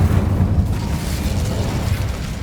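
An Incendio fire spell is cast in Hogwarts Legacy and bursts into a loud, booming whoosh of flame. It is followed by a rumbling, crackling roar that keeps going steadily for a couple of seconds.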